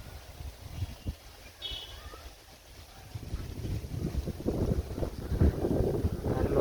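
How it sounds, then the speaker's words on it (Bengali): Gusty cold north wind by the Old Atrai River buffets the microphone outdoors, rumbling low and growing stronger toward the end, with a faint chirp briefly audible early on. "আর উত্তরে হিমেল হাওয়া প্রবাহিত হচ্ছে আপনারা দেখতে পাচ্ছেন"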